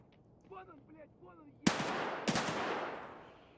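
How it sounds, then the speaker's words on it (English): Two loud, sharp gunshots from an enemy player in a video game using a Five-seven pistol on the Factory map, each with a ringing tail, preceded by a brief stretch of quiet speech. "There's his gunfire."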